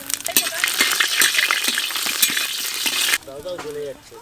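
Whole cumin, bay leaves and dried chillies frying in hot oil at a family picnic, a loud dense sizzle with crackling pops that cuts off abruptly, followed by quiet clinks and voices.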